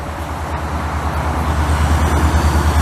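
Canadian Pacific local train rolling past Lachine station in Montreal, a loud continuous rumble with rhythmic low wheel beats and steady broadband rail noise, close by and alone.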